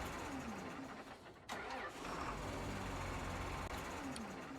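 Weak-sounding vehicle engine in the video game Farming Simulator 19 running steadily with a thin, even drone and a brief dip in the middle, fairly quiet and alone.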